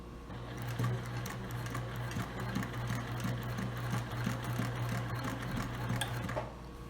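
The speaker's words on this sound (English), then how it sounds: "now I'm going to start to sew. Back stitch to secure the fabric." A sewing machine back-stitching fabric for a small ring bag, its motor running in a steady, even hum for several seconds, close and moderately quiet, with no one speaking.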